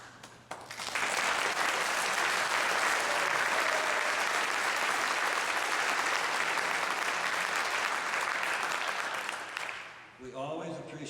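Enthusiastic applause from a large audience erupts and continues steadily for several seconds, then fades as a voice begins speaking.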